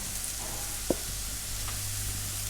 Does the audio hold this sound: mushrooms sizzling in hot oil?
yes